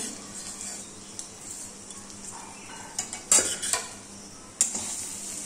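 Rice being stirred in a wok with ghee and turmeric for pilau, a soft continuous scraping with a few sharper utensil clinks against the pan and faint background sizzle, no talking.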